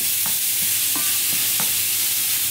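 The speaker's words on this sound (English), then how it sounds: "And now we're on to adding the mince into our pan with all of our other ingredients." Mince sizzling in a pan with other ingredients for a cowboy casserole with macaroni, stirred by hand in short scraping strokes over a steady close frying hiss.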